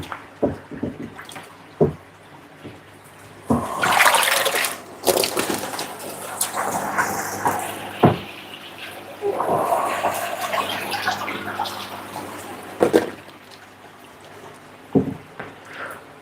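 Koi being returned to a holding tank during a tosai grow-along measuring session send up splashes of water in bursts, with a few sharp knocks and bumps between them, heard up close with no talking.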